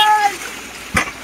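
Water poured out in a truck-bed swimming pool during flooding, one splash burst landing near after a moment of quiet, with a brief tonal squeal at the start.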